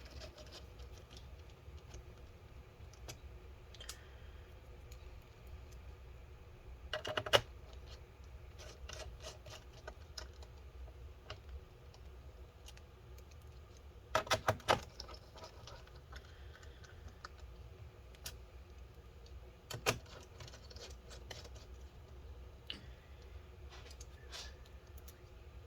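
Screws are driven back into the underside of a Clevo laptop, heard as faint scraping and rubbing with a few louder clicks and taps scattered across a quiet stretch, close by and without talk.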